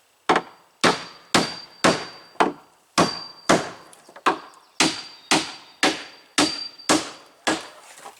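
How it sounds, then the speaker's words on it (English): Hammer blows driving nails into wooden rafters, about twelve sharp, loud strikes at a steady rhythm, each with a short ringing decay, close by with no talking. "Okay, I can nail these into place now."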